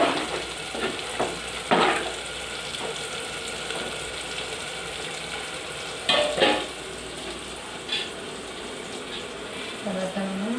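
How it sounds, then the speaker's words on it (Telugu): Chicken pieces fry in hot oil, Telangana style, with a steady close sizzle. Scattered stirring clatters and brief voices break in now and then. "ఈలోపు దగ్గర ఆయిల్లో మంచి ఫ్రై అవుతుంది చికెన్"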